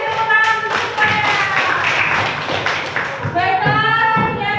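A classroom group of students clapping hands together in a sustained burst, a dense patter of claps with a brief dip before resuming, loud and close with no talk.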